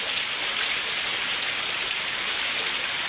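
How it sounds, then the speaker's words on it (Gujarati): A thick, constant roar of heavy rainfall fills the air over flooded fields in Khamidana village, Keshod taluka, unbroken and close, with nobody speaking. "અત્યારે ધોધમાર વરસાદ આપણે અહીંયા ખમીદાણા ગામમાં ચાલુ છે।"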